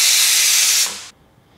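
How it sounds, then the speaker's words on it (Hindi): Loud, close steam hiss from a pressure cooker whistle on a medium flame while cooking vegetable daliya pulao, a steady blast lasting about a second before cutting off abruptly, with no talking. "मीडियम फ्लेम पे 2 सीटी आने तक पकाएंगे"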